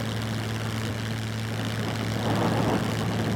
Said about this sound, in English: And now I can just turn the plane to wherever I want the plane to go